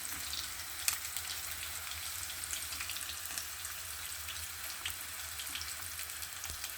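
A chunky piece of salmon fries in a pan, giving a faint, steady crackling sizzle with scattered small pops and one brief clink near the start, with no talking.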